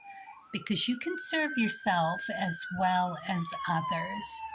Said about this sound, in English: Sorry about the siren there.